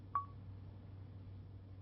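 A single short DTMF dialing tone from an Auto PC car computer linked to a Nokia phone, one brief beep over a low steady hum, fairly quiet and alone.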